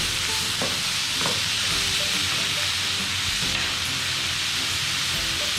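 Ground beef mince and lightly cooked onions frying in a pan, a steady close hiss and sizzle throughout, with occasional scraping stirs and no talking.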